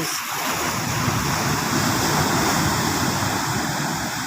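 Large ocean waves left behind after Typhoon Kristine roar in a steady, dense wash of surf with no pauses, close and loud.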